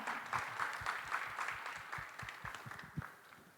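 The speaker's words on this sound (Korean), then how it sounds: "여러분 응원의 박수 부탁드립니다" Light applause from a modest crowd, steady scattered clapping that rises and falls for a few seconds without voices.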